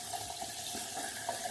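Tap water runs at a bathroom sink during a shave with soap: a steady, soft splashing hiss, fairly close and even throughout, with no voices.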